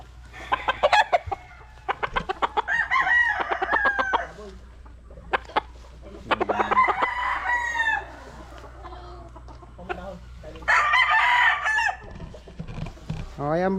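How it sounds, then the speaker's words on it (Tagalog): Chickens, gamefowl stags, squawk and cluck in loud, agitated bursts, close by, with brief quiet gaps between the outbursts. "Ganyan talaga manok kapag hindi lagi nahahawakan."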